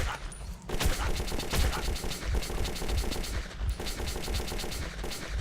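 Rapid machine-gun fire in the Metro 2033 shooter game: close, loud bursts of evenly spaced shots with a brief pause partway through before the firing continues.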